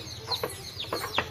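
A hen among little baby chicks in Sivaganga gives a few short, sharp clucks, about four brief calls spread over a second, close by, over a low background hum.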